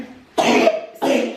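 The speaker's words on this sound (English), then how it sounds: "he has a pretty bad cough still" A sick toddler coughs twice, short harsh bursts close to the listener with a brief pause between them.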